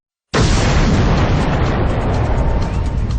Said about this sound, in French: C'est l'explosion de ce point